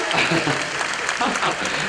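Audience applause at a live show, dense broadband clapping sustained throughout the short moment, fairly loud and close, with some voices mixed in.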